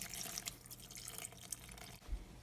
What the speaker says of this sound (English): Pour in the hot water